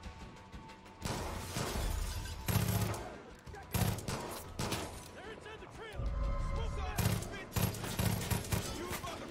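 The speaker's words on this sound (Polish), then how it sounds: "Jezu, jak się dziwnie strzela z tej broni." Loud, rapid gunfire bursts from a weapon in Far Cry 5, with several long volleys separated by short pauses and a crashing, shattering edge, while a voice talks over parts of it.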